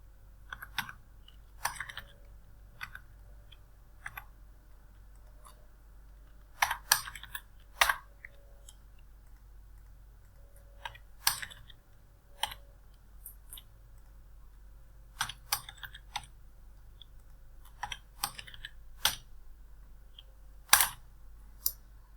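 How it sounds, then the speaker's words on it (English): Keys tapped on a computer keyboard to enter a serial number, sparse, irregular clicks in short clusters with pauses between, close and fairly quiet over a low steady hum. "type the serial number here"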